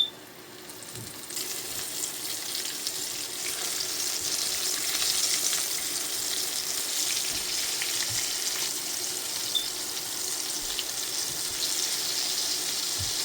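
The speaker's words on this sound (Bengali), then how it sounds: "আমি একটু বেশি করে আটা নিয়েছি এবার দিয়ে দিব গরম তেলে দেখুন" Flour-coated chicken pieces fry in hot oil. A steady, moderately loud sizzle holds for over ten seconds, with faint, irregular pops.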